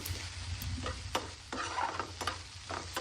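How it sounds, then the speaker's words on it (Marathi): Onion with garam masala and turmeric sautés in a pan for a tawa sandwich, a soft continuous sizzle under quick scraping stirs and light taps of a spoon, close and fairly quiet with no voices. "हे पण आपल्याला छान परतून घ्यायचे आहे"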